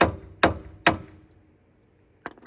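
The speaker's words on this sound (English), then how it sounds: "So we can now hammer this down," Three sharp, evenly spaced hammer blows on metal, driving a tie rod end out of a Sprinter van's steering spindle, each leaving a short ring, then a pause and two lighter quick taps.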